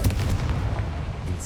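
Confringo fire spell blast in Hogwarts Legacy, a loud booming burst with a rumbling, crackling tail that fills the short moment without any voice over it.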